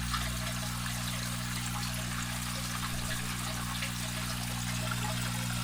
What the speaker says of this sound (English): we're starting to get a little bit of water drainage through the side holes